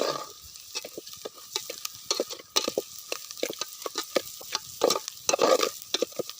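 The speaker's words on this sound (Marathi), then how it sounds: "ते आपल्याला चांगले मसाल्यांमध्ये आपले हे अंड टाकले ना भोडून ते चांगलं आपल्याला मिक्स करून घ्यायचे" Eggs are stirred into a spice masala for an egg biryani cooked outdoors in a forest, with quick, close scraping and clacking of a spoon against the pan over a faint sizzle.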